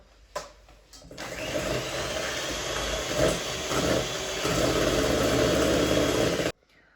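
An electric mixer whips egg whites with vanilla sugar for a bento cake, a steady, loud motor whir that starts after a short clatter, holds for about five seconds and then cuts off abruptly.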